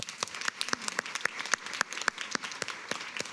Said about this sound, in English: So give all those people a round of applause as well.